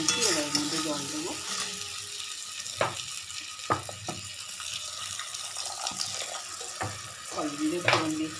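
Water is added to a pan of simmering fish curry with potato, producing a soft, hissing sizzle and bubbling. A few scrapes and knocks of utensils sound against the pan, and a voice talks briefly near the start.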